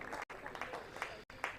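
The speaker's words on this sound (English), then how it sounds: "A good round of applause for Hannah Dolby." Scattered crowd applause at a county championship cricket match between Warwickshire and Kent, fairly faint and thin, with a commentator's voice talking over it and two brief dropouts breaking the sound.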